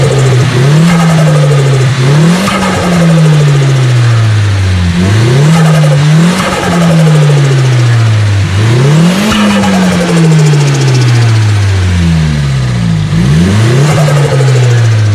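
A loud turbocharged Nissan S15 engine revs up and drops repeatedly, each throttle lift followed by a fluttering whoosh from the turbo's blow-off.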